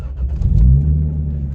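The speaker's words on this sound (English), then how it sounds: "So the car takes a little while to start." A car with a 2JZ engine cranking and catching, a low, steady idle rumble building up and holding, loud and close with no talking over it.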